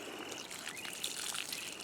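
Rainwater collected in a watering can pours onto a freshly transplanted collard plant outdoors, a soft, steady trickle and splash lasting throughout with faint bird calls in the background.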